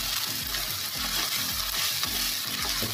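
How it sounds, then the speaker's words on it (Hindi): Onions stirred in hot oil over a medium-low flame while making spicy radish paratha, with a steady close sizzle and repeated scraping strokes of a spoon in a roughly regular rhythm, no voices. "यानी 1 मिनट के आसपास आपको यहाँ पे प्याज को चलाना है तेल में मीडियम लो फ्लेम पर।"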